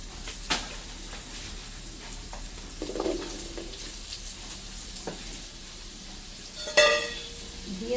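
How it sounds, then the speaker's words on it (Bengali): Potatoes frying in hot oil give a soft, steady sizzle, fairly faint, with a few brief clinks and stirring knocks scattered through it. "আলুগুলি ভাজার জন্য ভাজা তেলের ভিতরে একটু তেল দিয়ে দেবো"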